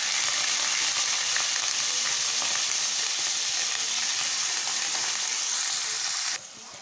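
Whole garam masala spices—cinnamon, cloves and bay leaf—frying in hot oil for egg biryani, a loud continuous crackling sizzle that holds steady and then drops off abruptly near the end, with no talking.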